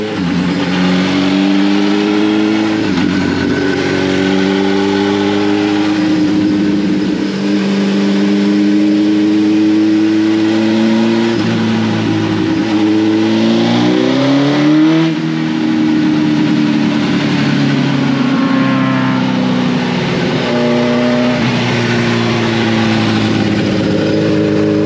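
Suzuki GSX-R 1000 motorcycle engine on a dyno, loud and close, idling then revving up through repeated rising pulls with climbing pitch, dropping back between runs.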